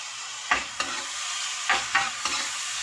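Tomatoes fry in a pan over a steady sizzle, and a spoon stirs them four times in distinct scraping strokes spaced through the short stretch.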